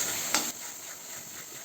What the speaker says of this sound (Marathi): त्यामध्ये कांद्या खोबऱ्याचं वाटण मिक्स करून घेऊया गॅस स्लो केला आहे मी